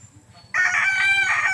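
Chickens and a rooster at a secluded rural youth camp site crowing and clucking, a loud burst of crowing that starts partway through after a quiet stretch of faint background.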